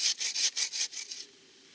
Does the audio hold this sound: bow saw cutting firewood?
yes